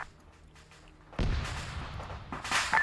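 Artillery rounds fire in the military game Arma 3, with quiet rumbling giving way to a loud burst of booming shots at about the one-second mark and a second heavy volley near the end.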